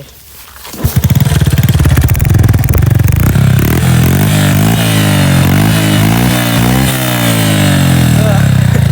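A motorcycle fitted with an aftermarket exhaust pipe kicks into life about a second in, then revs repeatedly, its roaring note climbing and falling in loud, close bursts over a steady rumble.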